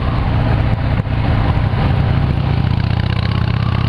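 A Harley-Davidson motorcycle engine idles steadily and loudly up close, a continuous low throbbing rumble that runs unbroken with no talk.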